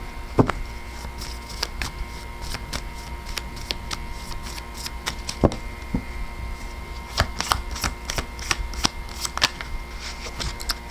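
A deck of tarot cards is shuffled steadily at close range, giving a run of crisp riffling snaps and flicks that repeat irregularly throughout, with no talking.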